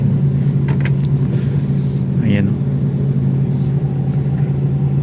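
Slow road traffic in the Czech Republic, a steady low rumble of car engines nearby with a few passing vehicle sounds, while someone talks over it.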